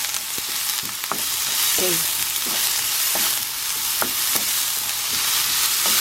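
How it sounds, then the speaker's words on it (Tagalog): Onions sauté in a hot pan for Japanese beef croquettes, a steady bright sizzle with occasional scraping stirs, and a voice briefly speaks once. "So, i-saute natin itong onion."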